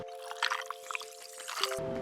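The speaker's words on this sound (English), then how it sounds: "we'll pour our blood on top of our vampire parfait" Thick red-coloured agave syrup is poured over a vegan Halloween parfait in a dish, making soft wet drips and splats close up over a steady electrical hum, with no voices.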